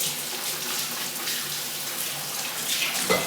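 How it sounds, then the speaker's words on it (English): A kitchen tap runs steadily while a utensil is rinsed under the stream, a close, continuous hiss of flowing water with a small clatter near the end. "rinse that off quick"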